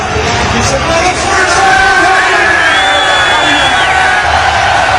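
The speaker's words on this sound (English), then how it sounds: "And this crowd, listen to this crowd, man. This crowd feels it." A New York football stadium crowd roars in a dense, sustained wall of cheering and shouting, loud and continuous throughout with a few rising whoops.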